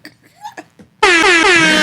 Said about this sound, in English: too many fucking air horns going on